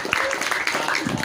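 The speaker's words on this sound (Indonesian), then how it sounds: "Tepuk tangan dulu dong" Brief applause from an audience at a talk, a short burst of clapping mixed with voices, fairly loud and close.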